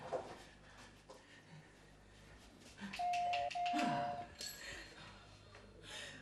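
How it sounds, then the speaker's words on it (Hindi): Doorbell rings with two clear electronic chime tones at moderate volume, heard in a domestic setting amid faint background noise and movement. "आज मैं तेरी घंटी बजाऊंगा।"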